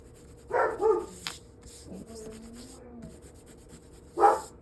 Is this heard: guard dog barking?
yes